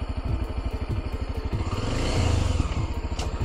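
A motorcycle engine idles and revs nearby with a steady low pulsing rumble, swelling briefly partway through, heard on a roadside stop during a ride in Colombia.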